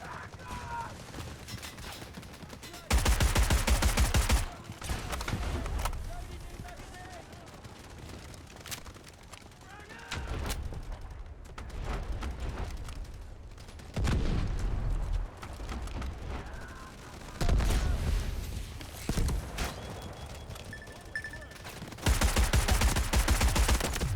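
Bursts of rapid automatic gunfire in the shooter game Delta Force Hawk Ops, several loud sustained volleys separated by quieter gaps, with someone talking in between.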